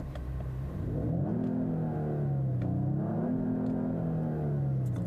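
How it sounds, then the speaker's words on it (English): Genesis SUV engine in sport mode revving up and settling in smooth, steady swells, a low hum rising and falling for several seconds, close and fairly quiet. "It's in sport mode right now. Let's take a listen to the engine."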